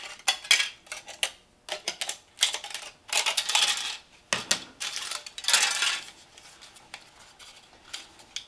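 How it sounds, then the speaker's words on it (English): Kitchen shears snipping through craft material, with a rapid series of sharp close-up cuts and crinkling rustles in uneven bursts, no talking. "So I'll take my kitchen shears and I'll cut this like this."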